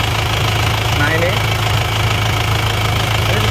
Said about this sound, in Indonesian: Tapi mesinnya masih halus dan rata.